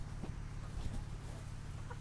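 Several chickens cluck softly and irregularly while feeding together outdoors, with scattered short calls over a steady background hum, fairly close and without speech.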